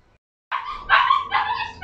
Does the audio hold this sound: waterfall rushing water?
no